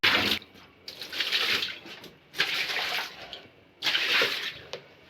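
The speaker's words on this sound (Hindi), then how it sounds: "ये रहा पानी, ये डालते हैं, स्टार्ट करते हैं" Water is poured out in three separate bursts onto a room floor to clean it, each a loud close splashing gush with quieter pauses between.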